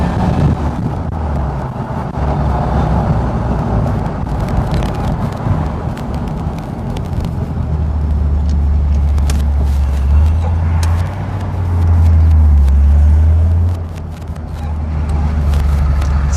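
An Alpine sports car accelerates hard, its engine rumbling loud and close with a deep surge building toward the end, wind buffeting the microphone throughout and no talk over it.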